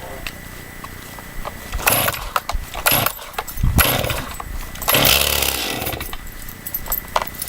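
A Stihl MS261 chainsaw that has sat unused for 4.5 months is started: a few sharp pull-cord rasps and sputters, then the engine catches and revs up loudly, close by.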